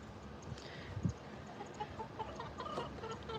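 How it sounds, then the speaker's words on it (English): Chickens of several sorts cluck softly on a farm, making steady low murmuring and occasional louder clucks under an outdoor ambience, with no talk. "And we got chickens of all different sorts."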